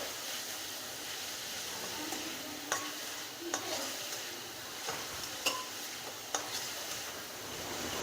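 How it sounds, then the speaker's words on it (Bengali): Coconut filling is stirred in a pan, giving a soft continuous sizzle and hiss with occasional scraping taps of the spoon against the metal, faint and close, no voices. "নেড়ে চেড়ে একটা পুর তৈরি করে নিচ্ছি।"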